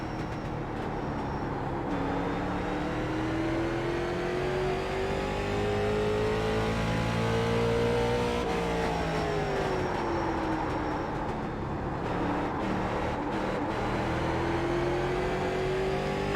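Late model race car engine lapping Martinsville in iRacing, a steady close drone whose pitch climbs through long straights and dips into corners, lacking pull out of the turns, running alone without talk.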